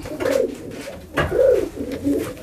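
A large pigeon of a racing or training breed coos close by in soft, throaty bursts, three rounded calls spaced across a brief moment.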